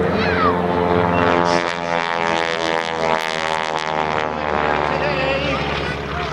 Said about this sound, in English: It will be within just a few feet above the runway as he lowers that aircraft down a little bit more.